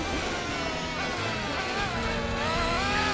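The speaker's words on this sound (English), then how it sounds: "Why does it have Formula GT engine sound?" Race car in Gran Turismo 4 making a Formula GT engine sound, a steady high-pitched revving whine with shifting pitch that climbs toward the end, loud and without talk.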